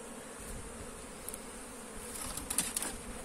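Honey bees buzz around an open hive during a walk-away split, a faint, continuous high drone with a few louder passes near the end, no talk over it.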